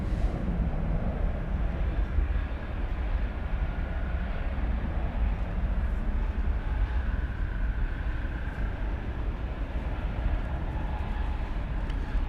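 An Airbus A350-900 airliner at DFW airport, a continuous distant jet engine roar rumbling steadily throughout with no talk.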